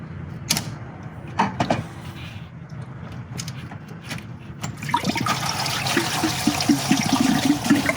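Coolant drains from a Honda Prelude below the thermostat into a drain pan, a steady trickling, splashing flow that starts after a few thuds and clanks and grows fuller and louder toward the end.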